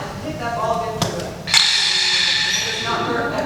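A vibraslap, held ball-down, has its ball struck against the rim, giving a sharp crack followed by a sustained buzzy rattle that continues for a couple of seconds, close and fairly loud.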